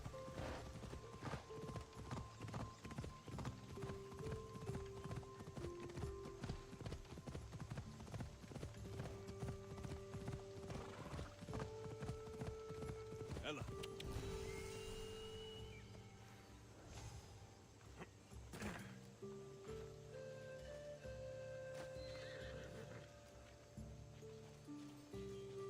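Hooves clip-clop steadily in a galloping rhythm over a busy soundtrack in the video game Assassin's Creed Odyssey, with a brief whinny partway through.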